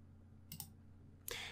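Two quick, soft computer mouse clicks about three-quarters of a second apart, close and quiet over faint electronic hum, as a continue button is pressed during a Kali Linux installation.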